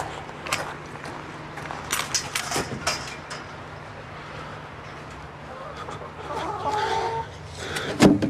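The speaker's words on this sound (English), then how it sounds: "Roger the rooster and his hens were brought back to the house" Roger the rooster and his hens in their backyard coop cluck and squawk in scattered bursts, with a harsher outburst near the end and voices talking in the background.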